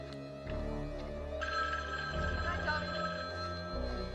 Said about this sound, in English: All right, let's answer the phone.